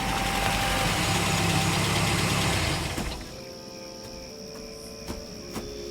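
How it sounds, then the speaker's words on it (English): A radio-drama sound effect of a jeep engine on the road: a loud, steady rumbling drive for about three seconds, then it cuts to a quiet background with a couple of faint knocks. "You hear that? Jeep on the road."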